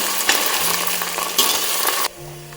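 Ginger garlic paste sautéing in a hot pan for mushroom biryani, a steady close sizzle with a couple of louder stirring bursts, ending abruptly into a quieter hum.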